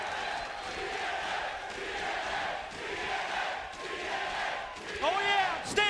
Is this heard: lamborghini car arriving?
no